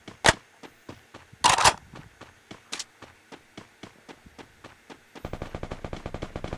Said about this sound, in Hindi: वो ऊपर ऊपर फायरिंग हो रहा है